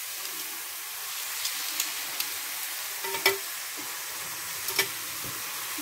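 Chunks of meat for bourguignon sizzle and fry in a hot pan, a soft continuous crackle with a few sharper pops and stirring clicks, heard up close with no talking.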